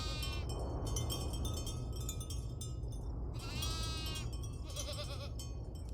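Sheep bleat repeatedly in the farming video game Farm Together 2, several overlapping calls in bursts over a steady background of game ambience and music, fairly close and prominent.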